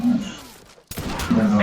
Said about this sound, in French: Mais y'a que des balles, des tirs, des headshots.